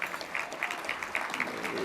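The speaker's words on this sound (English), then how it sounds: "Give her a round of applause." Audience applause at a business hall of fame ceremony, a brief, fairly soft burst of many hands clapping, with faint voices underneath.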